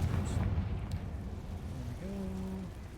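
In the Hogwarts Legacy video game, a Confringo fire spell bursts with a loud, low rushing blast at the start and decays into a rumble, with a voice speaking briefly toward the end.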